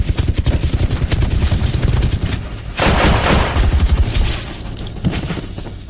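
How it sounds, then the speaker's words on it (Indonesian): Heavy gunfire erupts in an action drama, with rapid overlapping shots, booming blasts and a sharp shattering burst midway, loud and dense throughout. "tembakan mereka sangat kuat"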